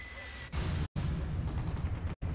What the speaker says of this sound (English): I hear bomb explosions.